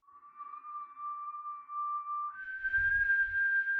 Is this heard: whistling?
yes